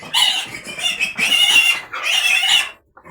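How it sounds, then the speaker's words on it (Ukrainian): A pig squeals and grunts loudly up close in three long, strained bursts, then falls briefly silent. "Два кабанчика в нас є на забій."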